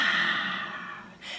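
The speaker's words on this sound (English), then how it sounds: "we're going to start with a big fake yawn that leads into a sigh" A voice gives a big exaggerated fake yawn, a long breathy airy exhale that fades and then ends in a short sigh, close and fairly loud.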